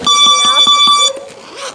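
An electronic timer buzzer sounds in a kids' Brazilian jiu-jitsu class, beeping loudly in a fast, repeated pulse for about a second before cutting off into room noise.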